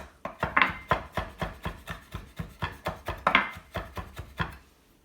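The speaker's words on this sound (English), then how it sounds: "just sort of roll them up a little bit so that you can mince them in just a few little swipes" A knife minces rolled-up rosemary on a cutting board, making steady rhythmic chops, about twenty quick close taps that fade out at the end.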